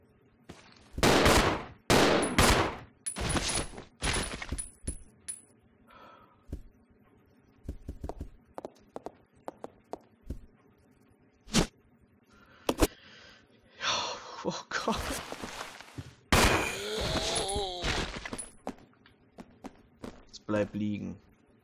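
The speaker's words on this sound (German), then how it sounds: "du verschwendest gerade alle deine Munition." Gunfire from the survival-horror video game Resident Evil Zero: loud bursts of shots in uneven clusters, with pauses and scattered game sounds between them.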